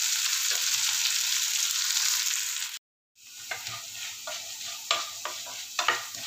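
Adamant creeper (pirandai) sautés in oil on a low flame, giving a dense, bright sizzle that cuts out briefly, then returns softer with scattered pops and spoon scrapes, no talking.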